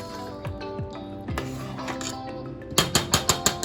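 A spoon stirs chana tarka daal, made with split chickpeas and lentils, in a pot. Soft scraping gives way to a quick run of five or six bright metallic clinks near the end, close and fairly quiet.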